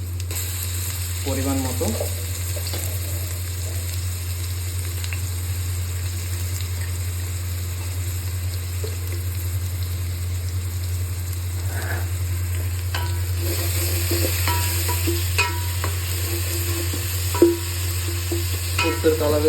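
Ginger-garlic paste frying in mustard oil for chicken biryani gives a steady, close sizzle throughout, with occasional stirring clinks and a brief spoken phrase.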